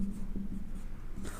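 Chalk or marker writing on a board in a mathematics lecture, a faint, steady scratching of short strokes heard close and alone.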